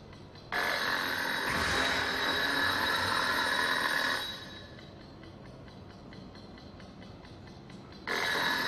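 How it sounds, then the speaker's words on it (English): Loud egg timer ringing in the horror video game Monstrum: a continuous bright metallic ring that holds for several seconds, stops, then starts again over a low ambient rumble. "ask a stupid question, get answered with a loud ringing noise"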